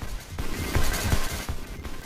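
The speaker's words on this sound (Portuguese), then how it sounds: "A ação, composta por disparos contínuos, ocorre sob música bacana, e é acompanhado por um excelente efeito sonoro." Rapid bursts of gunfire sound effects from a Sega Mega Drive video game crackle in quick succession, loud and close, as the shooting stays continuous.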